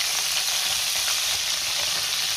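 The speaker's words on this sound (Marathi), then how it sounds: "आता हे वांग आपल्याला साधारण 1 मिनिटभर असं परतून घ्यायचे तेलावरती" Brinjal pieces sautéing in hot oil for a Maharashtrian masala vanga, a dense, loud, steady sizzle that stays constant and close throughout, with no voices.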